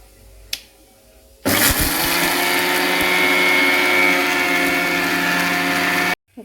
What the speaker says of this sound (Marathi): आता मी मिक्सर लावून त्याला फिरून घेते.